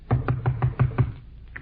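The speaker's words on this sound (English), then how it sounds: "Come on, I'll knock on the door." Six evenly spaced knocks on a door, hollow and fairly loud, delivered in a quick steady rhythm and then stopping, with no speech over them.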